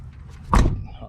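A Dodge van door shuts with a single close, solid thunk amid faint background noise.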